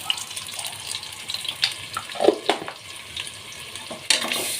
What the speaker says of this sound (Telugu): ఇప్పుడు బాగా వేగింది కదా ఉల్లిపాయ ఇప్పుడు ఇందులోనే అల్లం వెల్లుల్లి పేస్ట్ వేసుకుందామండి